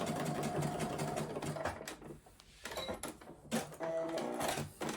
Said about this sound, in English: So I'm at the end now, so I'm going to reverse stitch.